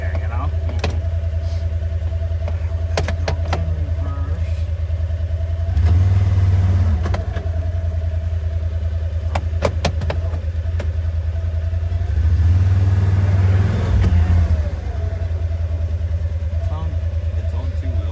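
A car engine revs hard in two long bursts while its wheels spin for traction, set against a steady low rumble, with people talking over it.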